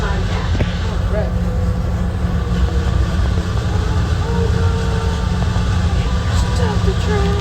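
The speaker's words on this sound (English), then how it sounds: "Oh, I didn't notice the other train." Rail car rolling at Tampa International Airport, a steady low rumble and mechanical hum continuing throughout, with faint squeaks and a voice speaking over it.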